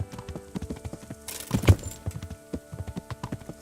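Horse hooves clip-clopping at a steady walking rhythm in Kingdom Come: Deliverance, close and clear, with a brief louder scuffle midway and no talking.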